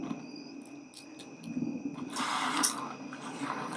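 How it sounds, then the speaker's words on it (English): Crickets chirp faintly outdoors at night, thin steady trills in the background joined by a brief louder rustle partway through. "you can hear crickets in the background because I am recording"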